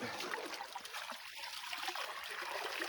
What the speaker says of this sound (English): rinse everything off into the bucket below